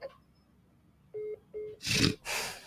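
Two short phone keypad tones sound as a call is placed, one close after the other. Two breathy, noisy bursts follow, loud and near.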